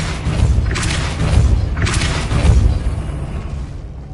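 The Depulso spell is cast in Hogwarts Legacy on PS5, and a heavy booming thud follows, then a second burst, with a low rumble lingering between and after.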